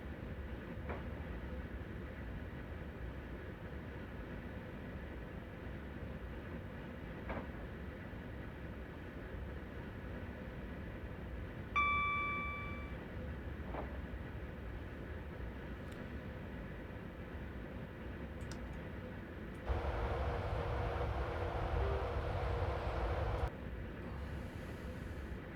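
A Class 91 electric train runs on the Edinburgh to Newcastle line in Train Sim Classic, with a steady, moderate rumble and rail noise throughout, a brief horn-like tone midway and a louder stretch of roar near the end.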